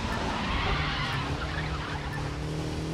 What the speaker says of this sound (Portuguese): Eu tô acelerando tudo que eu posso aqui.